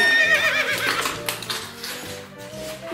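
A horse neighs in a loud, close whinny that trails off, with some hoof clip-clop at an abandoned house.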